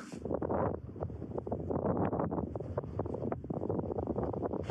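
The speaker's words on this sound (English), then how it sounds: "The wind is coming from southeast, which is directly that way, behind these little rocks." Strong wind buffets the microphone on a snowy winter mountainside, a steady roaring rush with gusty surges, close and loud throughout with no voices.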